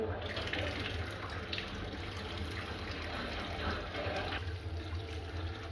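Tap water runs steadily from a faucet in a home being tested after a combi boiler heating installation, a constant close hiss and splash with no voices.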